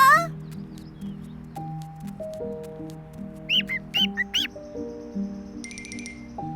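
A few short, high chirps ring out in a quick cluster midway, over soft background music, followed by a brief trill.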